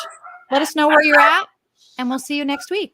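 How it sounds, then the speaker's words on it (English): Dogs barking at home behind a person talking: yips and bow-wow barks mixed under steady near speech, the barking partly masked by the voice. "Apologize for my dogs going nuts in the background."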